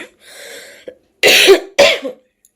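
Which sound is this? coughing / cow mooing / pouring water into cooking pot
coughing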